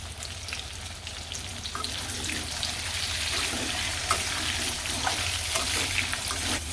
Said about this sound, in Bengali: এখন আলুগুলো ভেজে নিব